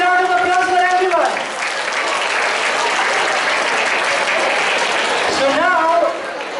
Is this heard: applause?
yes